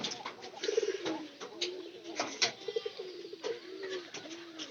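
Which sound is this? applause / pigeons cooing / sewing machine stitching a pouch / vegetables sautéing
pigeons cooing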